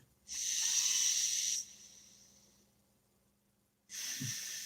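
Deep breathing close to the microphone: a long, loud hissing exhale that fades slowly, then silence, then another strong breath starting.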